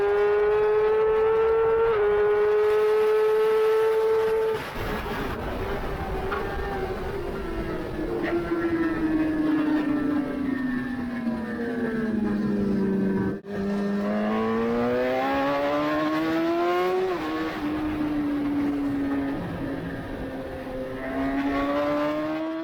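An Aprilia RS660 motorcycle races on the track at Snetterton. The engine drones loud and continuous, its pitch climbing and falling through the gear changes, heard up close with no talking.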